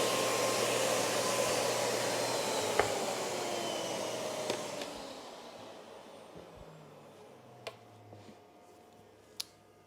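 A Miele C1 Compact vacuum cleaner on suction mode 6, powered from a portable inverter, whooshes with a loud steady roar that slowly fades and lowers in pitch, joined by a few sharp clicks near the end.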